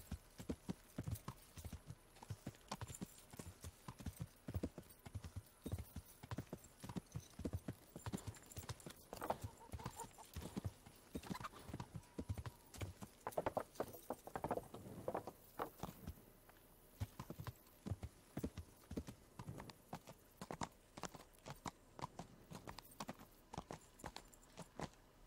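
Horse hooves clip-clop steadily at a riding pace in the Kingdom Come: Deliverance video game, a continuous rhythmic patter of hoofbeats running throughout, fairly close and alone without talk.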